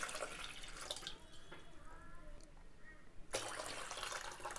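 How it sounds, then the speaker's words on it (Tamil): Water runs and splashes steadily into a cooking pot, with broadband pouring noise that drops briefly in the middle, then resumes loudly. "தண்ணி சேர்த்துக்கோங்க"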